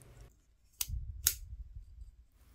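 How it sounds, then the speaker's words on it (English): Scissors snip shrink tube into small pieces, giving two crisp, close cuts in an otherwise quiet room. "So I'm going to cut this into four small pieces for each wire."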